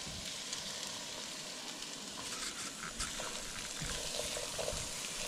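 Onions and celery saute in a pan for clam chowder, giving a steady, close sizzle and crackle with light stirring scrapes and no talking.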